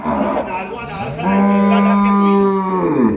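A young Cholistani-Friesian cross heifer lets out a long, loud moo close by, its drawn-out tone rising and holding steady before trailing off.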